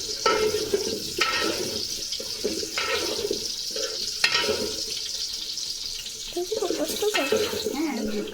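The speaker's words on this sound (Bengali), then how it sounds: "ভালো মতো আলু নাড়াচাড়া করে ভাজতে হবে" Potatoes being stirred and fried in oil for a home-cooked biryani: a steady, close sizzle broken by scraping stirs and short clattering bursts, with no speech.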